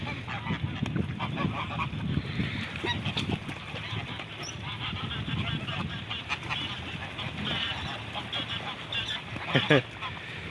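A flock of geese honking steadily, a busy overlapping chorus at moderate distance, with people talking now and then underneath.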